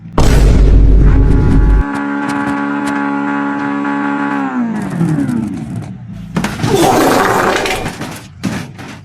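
A Pom Pom Bus in BeamNG.drive slams into something with a loud, deep boom, then a sustained droning engine tone follows, and a burst of crunching, scraping crash noise comes near the end.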